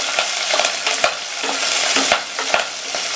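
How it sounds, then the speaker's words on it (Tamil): Green chilies, dried chili, garlic and curry leaves sautéing in a pan, with a steady sizzle of hot oil broken by repeated scraping stirs at an uneven rhythm, close and fairly loud. "இப்போ இதை லைட்டா வதக்கி விட்டுட்டு"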